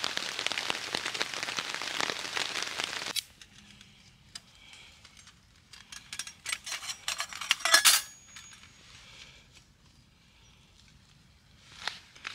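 Dense rain hisses loudly at first over water during a packraft trip, then stops abruptly, leaving scattered clinks and taps and occasional faint patters in a quiet background.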